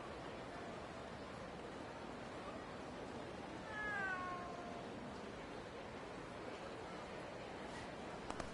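A cat in the video game Like a Dragon Gaiden gives a single clear meow midway, heard against a steady hiss of background noise.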